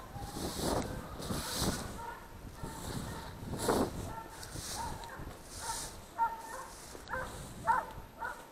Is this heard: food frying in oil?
no